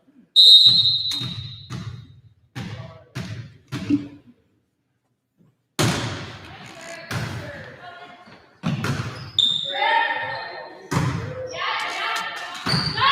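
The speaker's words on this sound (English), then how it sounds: "Oh, we have a whistle." A referee's whistle shrills sharply twice, near the start and again later, during a senior girls' volleyball game in a gym, amid ball thuds, echoing court noise and crowd voices.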